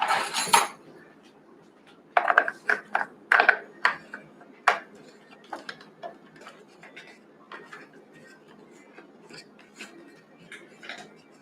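A wrench works parts off a destroyed Traxxas X-Maxx RC truck, giving bursts of close metallic clinks and ticks that thin to scattered taps, with faint talk in the background.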